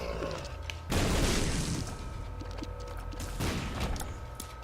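A bomb goes off in the video game The Binding of Isaac, a sudden loud burst of noise that decays over a couple of seconds, followed by a second, weaker blast amid game sounds.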